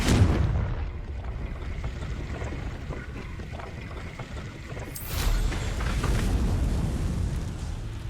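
The Confringo blasting spell in the Hogwarts Legacy video game lets off a loud whooshing burst at the start, then a rumbling roar, and a second blast with crackling debris follows midway, with no voices.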